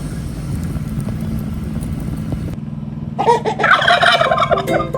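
Turkey gobbling at a high-altitude village farm, a burst of rapid warbling calls rising loud and close over a steady low engine-like rumble after a quieter opening stretch.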